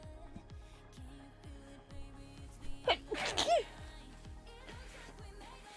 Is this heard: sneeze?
yes